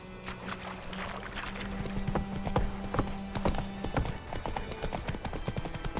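Horse hooves trot in The Witcher 3, a steady clip-clop rhythm running throughout, close and fairly loud over a busy game soundscape with some music or ambience.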